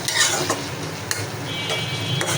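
Taro greens with shrimp, green chili and coriander leaves stirred in a pan: soft scraping and shuffling over a gentle sizzle, a few brief utensil taps, close and continuous, with no talking.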